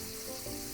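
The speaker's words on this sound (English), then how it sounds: "Listen to a sizzle." Steady crackling sizzle of bush lime frying in the video game Dinkum, a soft continuous hiss with no voices, short and even in level.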